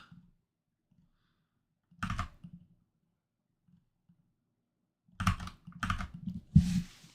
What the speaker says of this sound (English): I apologize, my keyboard's loud.